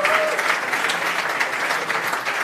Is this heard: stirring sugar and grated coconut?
no